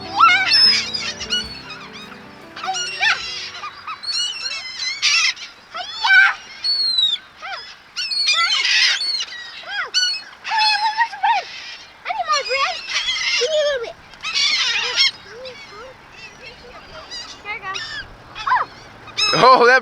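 Goose-like bird honking repeatedly on a beach, loud nasal calls in irregular bursts, with people talking alongside.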